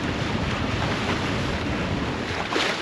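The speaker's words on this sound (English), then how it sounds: "Lots of wind, and we are getting close to the island" Strong wind buffets the microphone as waves wash past a Hallberg Rassy 44 sailboat off Italy's Emerald Coast, a steady broadband roar with no talk.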